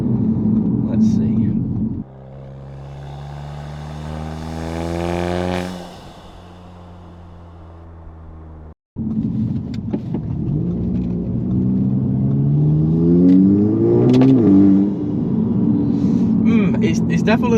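Audi S3 8V with a straight pipe exhaust, loud and close, revving up in rising and falling sweeps with a brief drop to idle between pulls, followed by a second longer rumbling rev.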